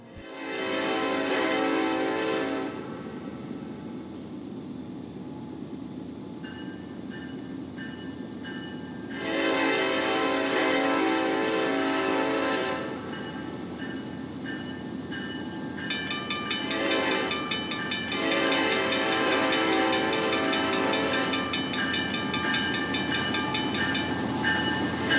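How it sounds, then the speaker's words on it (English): Ethanol freight train headed by an EMD SD70ACe locomotive with KCS units trailing rolls past at close range, a steady rumble under repeated loud horn blasts, the last one long and sustained. "Leading this ethanol train is one of EMD's massive SD70 ACUs, followed by some KCS foreign power"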